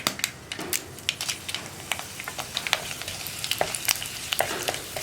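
Mustard seeds spluttering in hot coconut oil for a coconut-shoot thoran, a rapid, irregular series of sharp crackling pops over a soft sizzle, close and fairly quiet.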